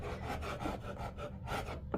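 Sanding strips adhesive from a wooden floor in repeated rhythmic rasping strokes, steady and close, ending with a brief sharper scuff, no voices.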